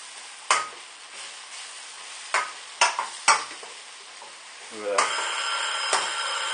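Pork stir-fry being mixed in a hot pan, a soft sizzle broken by several sharp scrapes and clatters of the utensil, then a louder burst of frying as the meat goes back in.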